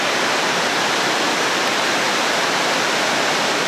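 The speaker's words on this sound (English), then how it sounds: "I don't really know if you can hear me over the waterfall back behind me." A waterfall roars steadily behind a mountain campsite in British Columbia, a dense, even rush of falling water that fills the whole moment without pause.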